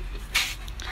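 A dog at bath time gives a brief, soft whimper, one short whine rising over quiet background.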